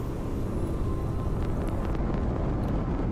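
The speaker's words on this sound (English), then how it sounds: "I like the sound of these engines." Spaceship engines in the Starfield video game give a steady, loud low rumble with airy hiss, a continuous drone holding level throughout with no talking.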